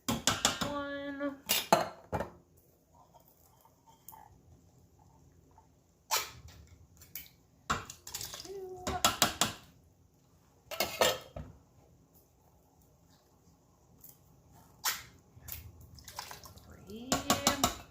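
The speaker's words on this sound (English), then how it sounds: "And then you're going to add in 4 cans of diced tomatoes." Four cans of diced tomatoes are tipped into an Instant Pot for tomato soup, giving a few short bursts of thuds, clinks and wet plops spread out between quiet stretches, with a voice talking in between.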